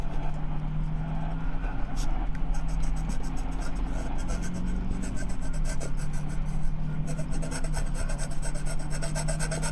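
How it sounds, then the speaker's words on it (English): Pencil or pen scratching and rubbing on paper plays over a radio inside a bus in the Desert Bus video game, a steady dry rasping that runs continuously over a low engine hum, with a voice talking over it. "Why am I listening to someone draw?"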